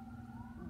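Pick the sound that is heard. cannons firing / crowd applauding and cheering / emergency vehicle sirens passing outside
emergency vehicle sirens passing outside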